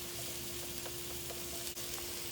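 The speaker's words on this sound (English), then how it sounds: "you want to saute this until it's soft" Bitter melon sautés in a pan with a steady, close frying sizzle and a few faint stirring clicks, and no talking.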